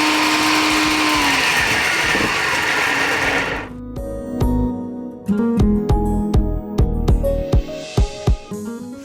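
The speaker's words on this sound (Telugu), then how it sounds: "సో ఇలా కచ్చాపచ్చాగా మిక్సీ పట్టుకున్నామండి." A mixer grinder coarsely grinds soaked ingredients for sago vada, running as a loud steady whir for about four seconds, then stopping and restarting in a series of short, abrupt pulses with clunks between them.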